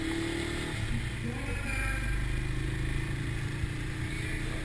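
A 2020 Bristol BR 250 motorcycle ridden slowly, its engine giving a steady, smooth low hum with faint road clatter, continuous and close throughout.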